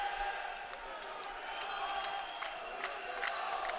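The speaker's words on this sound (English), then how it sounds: "Fans are cheering again." Fans at a women's volleyball match between Dinamo Kazan and Fenerbahce cheer and shout in a steady crowd roar, with sharp claps and whoops popping out of the din.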